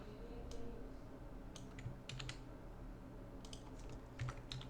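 Keys clatter on a computer keyboard in quiet, scattered bursts of clicks close to the mic against a low steady hum.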